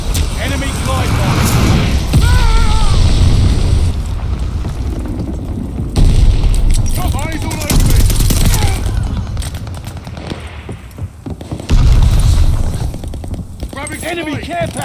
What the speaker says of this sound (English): Enemy glide bomb.